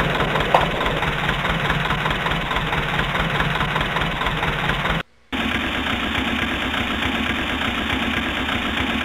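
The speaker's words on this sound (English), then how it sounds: "Okay, we're starting pushback." A pushback tug's engine at Dubai Airport in the FS2004 flight simulator, a steady, low, knocking diesel idle that runs evenly and loudly, broken by one brief cut to silence midway.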